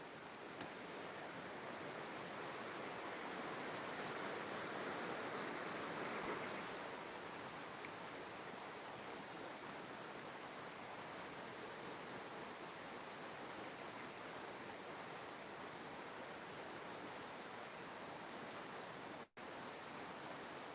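Steady flowing water rushing continuously, a broad even wash of sound that stays constant and fairly loud throughout.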